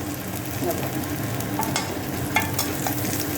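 Steady crackling sizzle of vadagam frying in hot oil, with a few sharp pops and spits.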